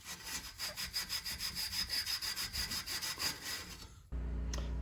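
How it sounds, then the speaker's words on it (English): A Scotch-Brite pad scrubs a metal steering peg on a Mustang in quick, even back-and-forth strokes, a steady rasping rhythm that cuts off near the end into a low hum. "We'll take some Scotch-Brite to that, get it perfectly smooth"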